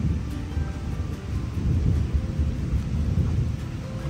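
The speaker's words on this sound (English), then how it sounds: "Nice Appalachian mountain storm here." A thunderstorm in the Appalachian mountains gives a steady deep rumble of thunder mixed with rain and wind buffeting, continuous and loud throughout with no voices.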